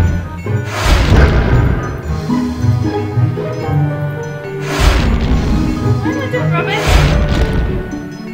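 A building gets smashed apart in the video game Gods vs Humans, with three heavy crashing bursts of collapsing debris spread across the stretch. People talk throughout, between and under the crashes.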